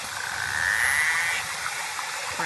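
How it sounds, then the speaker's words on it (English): Recorded narwhal calls: rapid, croaking pulsed clicks run continuously under a thin, rising whistle, close and steady, with no talking. "various calls, buzzes, clicks, and whistles of narwhal."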